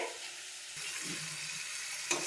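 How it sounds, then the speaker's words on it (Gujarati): Raw banana wafers frying in hot oil are stirred slowly, giving a steady close sizzle with soft scraping strokes and a small clink near the end, with no voices. "આવી રીતે ધીમે ધીમે હલાવશું આપણે એટલે એકદમ સરસ ચડી જાય"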